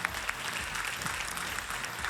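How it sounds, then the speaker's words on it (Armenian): Studio audience at an Armenian pop singing contest applauding, a full, steady burst of many hands clapping close and loud throughout, with no speech over it. "Ծափահարություններ նրանց"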